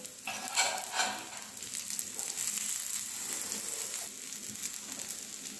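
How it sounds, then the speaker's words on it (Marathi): Ragda patties shallow fry in oil in a pan, giving a soft, continuous sizzle with faint crackles and occasional light stirring scrapes, fairly quiet and close. "शॅलो फ्राय करून घेतोय, डीप फ्राय करायचं असेल तर तुम्ही करू शकता।"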